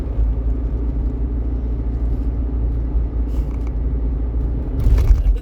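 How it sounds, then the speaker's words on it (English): A car driving during a morning commute, with a steady low road rumble and engine drone from inside the cabin and a brief rattle and swell near the end. "This is me driving straight through"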